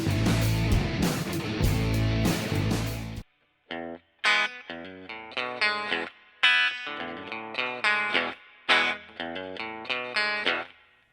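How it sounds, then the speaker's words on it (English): An electric guitar through a Fender Blues Junior Tweed amp plays with effects: a dense, loud strummed passage, then a run of separate ringing notes and chords with short gaps. "if you're interested in what this amp sounds like, we've got that for you today"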